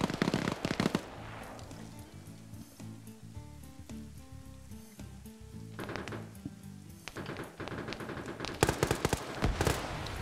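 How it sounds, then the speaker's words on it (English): Flares and grenades going off during a PvP video game match: sharp crackling bursts at the start, a quieter stretch carrying low tonal music, then renewed clusters of loud pops and blasts toward the end. "So we got some flares getting shot up here."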